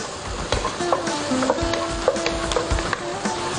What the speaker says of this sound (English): while the oil is cold, let the garlic heat up in the oil. This is about 3 cloves of garlic that's finely chopped. Let's stir this around as well.